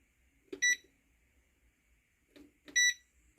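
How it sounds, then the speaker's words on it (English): A kitchen oven timer being set gives two short bursts of sharp electronic beeps, close and clear, with faint handling noise between them and no talking. "And I'm going to set my timer"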